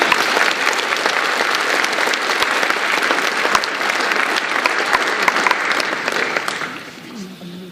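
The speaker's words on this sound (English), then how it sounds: "Please give her a round of applause." Parents and students at a high school band spring concert applaud a percussionist, loud, dense clapping that holds steady and then tapers off near the end.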